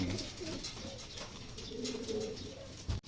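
Racing pigeons coo repeatedly in a loft after a sprint race in San Jose, Nueva Ecija, soft throaty calls overlapping close by with a brief knock near the end.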